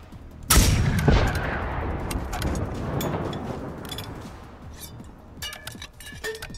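One sharp, loud gunshot in the Generation Zero shooter game, followed by a second report and a long echoing tail, then scattered metallic clicks and clinks of weapon handling.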